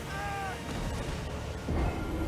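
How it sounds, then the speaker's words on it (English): An explosion in the video game Elden Ring, a broad rumbling blast that fills the low end under steady game noise and swells again briefly near the end. "That was like a whole explosion."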